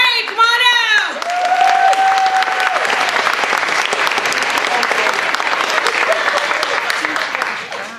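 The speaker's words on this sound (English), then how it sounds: "Let's give Ray Burns a big round of applause." Comedy club audience bursts into sustained applause and clapping for comedian Ray Burns, a dense, loud wash of hands that holds steady for several seconds, with whoops and cheering voices mixed in near the start.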